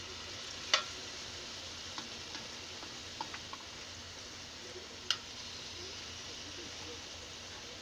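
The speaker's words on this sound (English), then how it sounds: "I'm going to start removing this pork with a slotted spoon and putting it in the oil" Pork pieces sizzle as they fry in hot oil in a heated pan, a soft, steady hiss with a few sharp ticks and pops scattered through, heard close but quiet.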